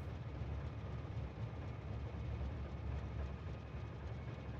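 Trains roll steadily through the video game Factorio, a quiet, continuous rumbling rail noise with a faint clatter, heard alone without talk.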